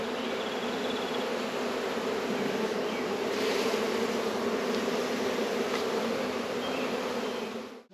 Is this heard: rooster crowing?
no